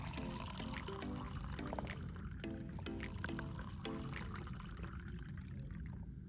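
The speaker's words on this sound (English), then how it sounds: "we're going to pour a cup of water into our ball" A cup of water pours into a toy ball, a soft continuous trickling and splashing heard alone, steady and close, with faint clinking accents early on.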